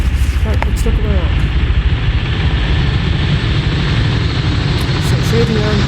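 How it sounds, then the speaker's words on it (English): Helicopters pass overhead in a multiplayer combat video game tournament, a loud, steady low rotor rumble filling the scene with faint higher whines above it. "We have a few helicopters moving over with their cargo passing down."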